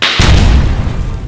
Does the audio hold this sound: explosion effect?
yes